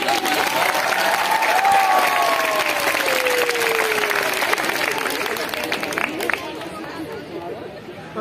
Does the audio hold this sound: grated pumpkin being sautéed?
no